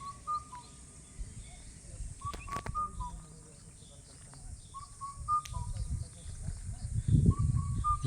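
An unfamiliar bird calls close by, repeating short, clear whistled notes in small bursts, with a little traffic and outdoor rumble beneath, and a loud burst of noise near the end.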